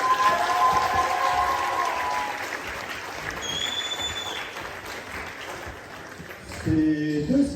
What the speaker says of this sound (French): Gisèle, Anne Gertrude, messieurs, dames, je vais vous demander de les applaudir